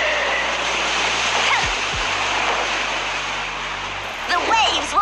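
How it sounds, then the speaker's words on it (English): Crashing water waves from a skill effect in the Seven Knights game, a loud steady rush of surging water with splashes, overlaid by brief game sound effects and a speaking voice. "The waves will rage."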